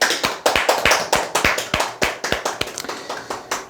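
A group claps hands for a few seconds, producing a loud, fairly even run of sharp claps at a brisk, rhythmic pace, close to the listener, with no talk.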